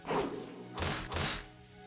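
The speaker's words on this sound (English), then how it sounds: "she hit the door to the VIP room." Heavy pounding on a VIP room door in the visual novel game Umineko: a few forceful thuds and whacks in quick succession, booming and close.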